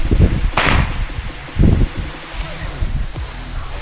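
A sharp, loud crack of a Galaxy Predator PCP air rifle shot rings out, followed by a lower thump and some rustling handling noise.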